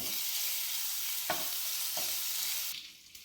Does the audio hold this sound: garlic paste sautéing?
yes